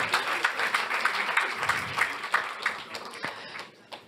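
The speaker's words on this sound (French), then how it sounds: "On peut les applaudir." An audience applauds award winners at an insurance industry awards ceremony, a lively crowd clapping with distinct hand claps standing out, fading toward the end, with a little talk mixed in.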